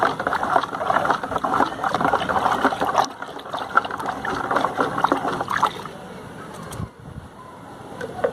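Curd and turmeric mixture stirred into 10 litres of water to make a plant fertilizer spray; loud, close sloshing and swirling of liquid in a container, busier in the first half and then calmer.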